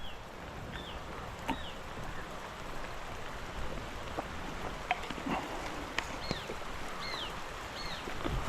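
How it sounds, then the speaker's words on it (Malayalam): Steady rain falls outdoors by a river near the sea during a fishing trip, a continuous dense patter with a few sharper drops and distant bird calls, no talk. "മഴ പെയ്തു"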